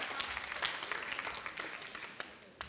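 Audience applause at a youth group church service in Gunsan, a steady wash of clapping lasting a few seconds at moderate, slightly distant level, with a couple of sharper claps near the end.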